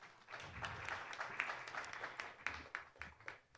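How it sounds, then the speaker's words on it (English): An audience applauds at a felicitation ceremony during a conclave, the scattered claps faint and somewhat distant, rising and falling slightly in a continuous patter. "Can we have a big round of applause for Mr. Ganguly, everyone?"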